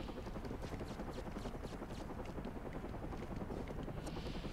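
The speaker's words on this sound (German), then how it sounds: "Was denn? Helikopter." A helicopter in the video game Batman Arkham Origins makes a continuous, fairly faint rotor chop and engine roar that stays steady the whole time, with no voices.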